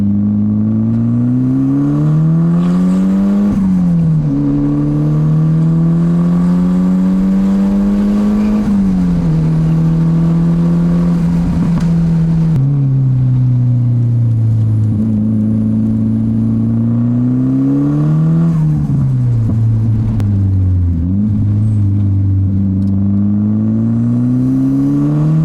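A Nissan Pulsar GTI-R's engine drones steadily on a night drive, its pitch climbing and dipping through several rev changes and shifts, loud and close throughout with no talking.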